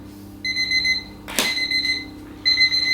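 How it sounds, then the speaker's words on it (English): A kitchen oven timer alarm rings in repeated electronic beeping bursts, loud and close, with a brief sharp click midway and no talking. "We'll set the timer for 12 minutes."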